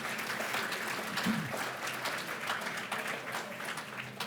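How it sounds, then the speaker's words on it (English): A roomful of people at an apprenticeship awards evening applauding at a moderate, steady level, the clapping continuous from start to finish with a brief voice-like murmur underneath. "A round of applause"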